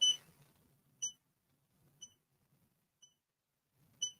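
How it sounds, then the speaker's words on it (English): An embroidery machine gives a short electronic beep about once a second, five times, each a bright high tone over a quiet background with faint low hum. "So for it to stop beeping at me, I'm just gonna back the machine up a few stitches."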